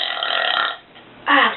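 A person burps twice in a bedroom: a longer burp first, then a short, louder one after a brief pause.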